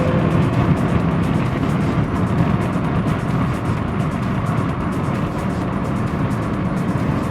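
A car on track-day laps at the Zandvoort Formula 1 circuit while overtaking: a steady, loud engine and road drone heard from inside the cabin, continuous throughout with no pauses.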